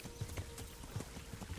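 Horse hooves clip-clopping over pebbles while riding in Kingdom Come: Deliverance, a steady quiet rhythm of soft thuds at walking pace.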